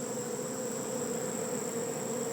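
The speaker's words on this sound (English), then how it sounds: "I have never seen such a bee mess." Two or three pounds of swarming bees hum in a constant, close, unbroken buzz that holds level throughout, with no voices present.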